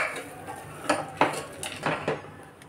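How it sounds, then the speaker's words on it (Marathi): A spoon scraping and knocking against a pot while toor dal and peanuts are mixed into a palak, shepu and ambat chuka vegetable dish, several uneven clinking strokes close by. "पुन्हा एकदा याला आपण मिक्स करून घेऊया।"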